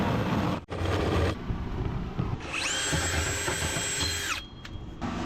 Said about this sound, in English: We're drilling a hole for the line sets